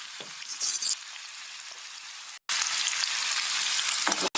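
Bitter gourd, onion and chillies frying in hot oil in a wok: a loud, steady sizzle that breaks off briefly twice, with a few soft stirring scrapes near the start.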